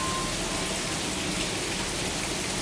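Steady hiss of rain falling on a farm, even and continuous, with no voices.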